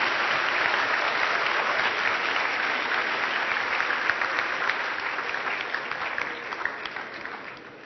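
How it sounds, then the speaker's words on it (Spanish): A large crowd at a hackathon awards ceremony applauds loudly and continuously, a dense wash of clapping that holds steady and then begins to fade toward the end. "Fuerte el aplauso para ellos, por favor."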